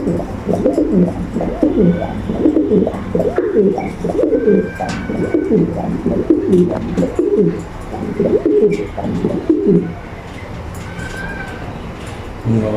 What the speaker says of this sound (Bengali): আপনাদের একটু ডাক ডাক দেখাবো একটা মাদি কবুতর দিয়া